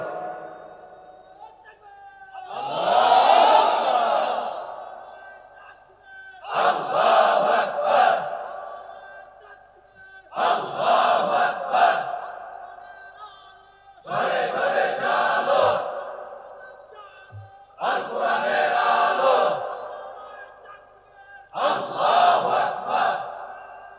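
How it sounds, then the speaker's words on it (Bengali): A large crowd at a religious lecture gathering shouts takbir (Allahu Akbar) six times in a row, each loud, roaring chant rising and falling with short pauses between them. "মিয়া দাও তো তাকবীরের মতো একটা তাকবীর"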